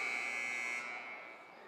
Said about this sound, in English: Shot clock buzzer rang.